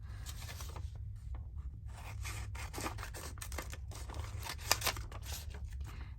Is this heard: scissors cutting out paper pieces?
yes